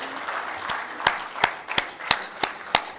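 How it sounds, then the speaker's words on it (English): A conference audience at an arthroplasty meeting claps in a round of applause, with sparse, distinct claps ringing out over a soft hall murmur rather than a dense ovation. "we make a round of applause for all those people who are not on the stage"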